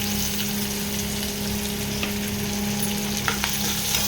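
Finely chopped garlic fries with browning onion in a hot pan, a steady close sizzle with a low constant hum and a few light clicks of a spoon, no talking.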